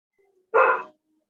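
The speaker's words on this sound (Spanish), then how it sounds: "No es la que está ladrando." A single sharp dog bark sounds close and alone, lasting under half a second against a quiet indoor background.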